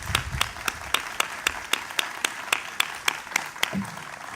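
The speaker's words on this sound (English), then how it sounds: "a big round of applause and thank you" Applause at a veterans memorial dedication held by a Rotary club, with sharp, evenly spaced claps that stand out over a softer spread of clapping, fairly faint and steady for a few seconds.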